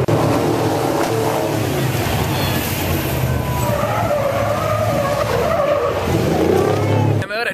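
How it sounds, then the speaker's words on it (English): Off-road race trucks at the Baja 1000 start line in Mexico roar off one by one, a loud, continuous blast of revving engines and skidding, squealing tires dominating the whole stretch, with some faint voices underneath. "trucks are going one by one, taking off from the start line"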